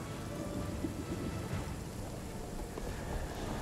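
Steady rain pours with low rumbling thunder in the Sea of Shrouds video game, a constant dense wash of sound with no voices.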